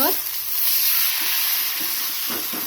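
A paratha sizzles and hisses steadily as it fries in oil on a hot tava, a continuous close frying sound with no talking.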